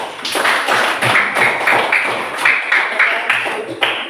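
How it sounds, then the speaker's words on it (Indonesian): A classroom of students applauding after a group finishes its presentation, with steady, dense clapping of many hands at close range for the whole stretch. "Mari kita beri aplaus"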